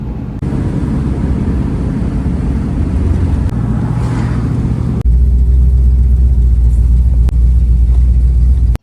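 Pontiac Firebird with a 455 V8 fitted with a Thompson Power Blast carburetor plate, heard from inside on a road test drive: a steady loud engine drone that deepens and swells midway as the car pulls harder, with no talking.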